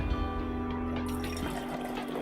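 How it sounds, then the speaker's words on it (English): A drink pours from a bottle in The Red Strings Club video game, a steady liquid trickle running for a couple of seconds over a constant background hum. "Gotta pour it all out. Guess gotta pour this in there, don't I?"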